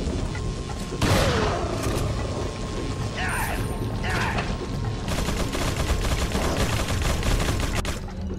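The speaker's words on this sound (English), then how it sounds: "let's just use the shotgun" Shotgun blasts and mechanical pump and reload clacks from Resident Evil 4 at the fort, a few sharp reports among steady metallic game clatter and background noise.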